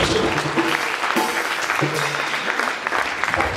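A church congregation at a faith and miracles service applauds in a steady, dense wash of clapping, with cheering voices running through it throughout.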